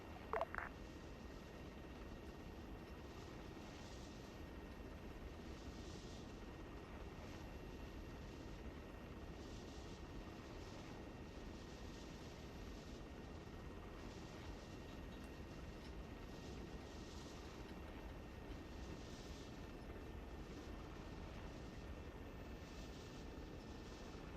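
Buffalo 4 aircraft taking off from runway 32 in Arma 3, a steady, even engine roar holding at moderate level throughout, with a brief clunk at the very start.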